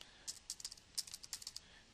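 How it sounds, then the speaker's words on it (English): Quick keystrokes on a computer keyboard as a web address is typed, a run of light, uneven clicks close by and fairly quiet, with no voice. "I'm going to type in the URL"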